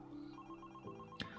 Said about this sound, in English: we have this one shot here of the phone ringing and Christian